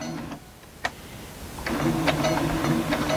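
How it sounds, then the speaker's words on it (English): A domestic sewing machine stitching pieced quilt block fabric, starting with a short whir, pausing, then running steadily and fairly loud with a light mechanical tick. "I'm just going to go on and sew up to"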